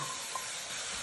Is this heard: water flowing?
no